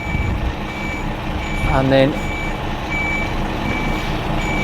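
A rigid lorry on a Category C reversing exercise is eased gently backwards, its reversing alarm holding a steady high electronic tone above constant heavy engine rumble, with a brief burst of someone talking partway through.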